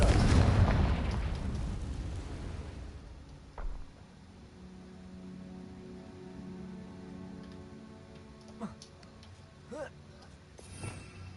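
A Confringo blasting spell explodes in the Hogwarts Legacy video game: a loud, deep, booming blast opens the moment and rumbles away over a few seconds, then gives way to quieter tones and a few faint later thumps.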